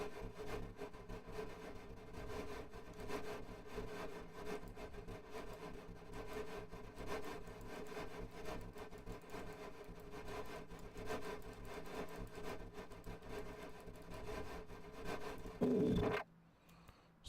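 A simulated V10 engine in an engine simulator cranks over with a continuous rough, grinding whir, steady for about fifteen seconds, then briefly louder before cutting off.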